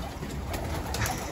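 Racing pigeons cooing in a loft, a steady soft low murmur of several birds close by, with a faint brighter call near the end and no talk.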